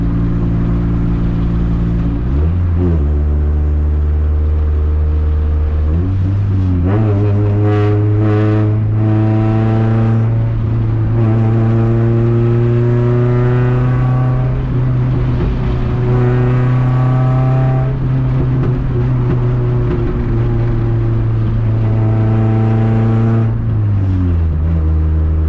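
A Honda Civic with a loud exhaust revs and accelerates through rising and falling engine tones, heard up close from the cabin, with scattered sharp exhaust pops as the throttle lifts.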